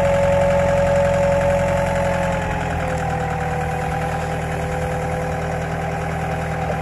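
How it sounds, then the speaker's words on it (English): A Caterpillar VC60D tri-stage diesel forklift engine idles steadily and up close, a loud continuous drone with a slight knock and vibration that dips a little in pitch after a couple of seconds. "Video here of this Cat VC60D diesel."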